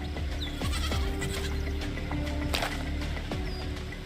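Goats bleating on a cliff: several short, faint wavering calls spread across a steady background rumble, with no talking.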